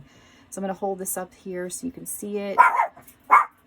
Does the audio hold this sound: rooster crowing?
no